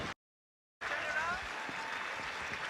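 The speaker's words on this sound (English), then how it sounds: "let's get a big round of applause for both athletes." An audience at a combat sports match applauds both athletes after a brief silence, steady clapping with a faint voice in the background.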